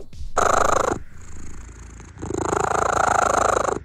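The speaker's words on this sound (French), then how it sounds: "Le ronronnement des chats." A domestic cat purring up close, a rhythmic rumbling in two long pulses with a brief quieter gap between them, loud and steady with no talking.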